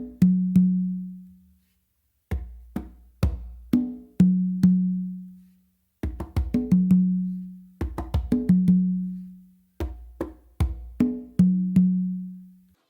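Songo pattern on congas and tumba, with muted bass-finger taps and ringing open tones in repeating phrases, separated by brief pauses, played close and clear with no talk.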